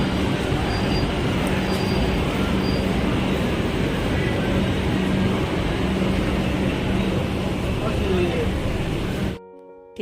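A steady, loud rumble of a metro train running on rails, continuous roar and rattle that cuts off abruptly near the end.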